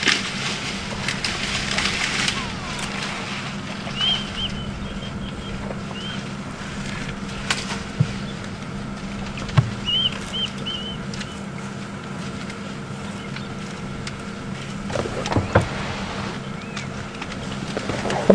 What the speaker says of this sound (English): there's a lot of fork-tailed drongos also calling.